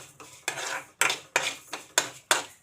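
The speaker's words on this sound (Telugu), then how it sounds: "నువ్వులు కొంచెం కలర్ వచ్చేంత వరకు నువ్వులు వేయించుకుందాం." Sesame seeds roast in a pan while a metal spoon stirs and scrapes them, producing six or seven sharp, rhythmic scraping strokes about half a second apart, close and dry, with no speech.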